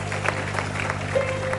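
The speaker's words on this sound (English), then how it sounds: "Let's appreciate him with a clap offering." A church congregation gives a clap offering, a short burst of scattered applause over a steady low hum from the sound system, with a faint vocal tone.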